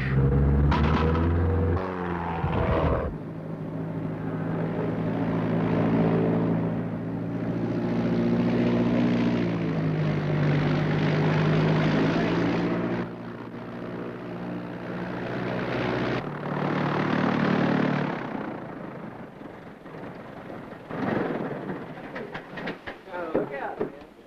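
Small propeller airplane coming in to land with full flaps and carb heat on, engine drone loud and steady then changing pitch and dropping near the end, with people talking throughout.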